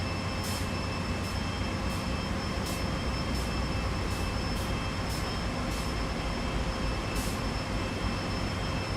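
A BNSF freight train in Santa Fe livery rolls past under a steady, fairly faint rumble. Sharp clicks repeat at a roughly even pace, about every half second, and no one speaks.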